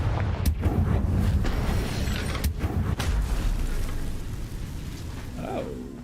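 Confringo fire spell blasting in the video game Hogwarts Legacy, heard as several sharp booming bursts over a dense, crackling rumble that fills the whole stretch, with a brief rising tone near the end.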